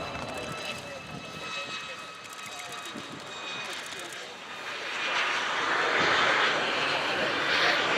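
Breitling display team aircraft taxi past at the RIAT airshow, their engines humming and whining steadily and swelling louder in the second half, with people talking over the engine noise.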